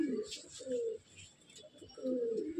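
Andhra pigeons in a loft give three soft, throaty coos in a row, the last one longest, heard up close at low volume with little else around.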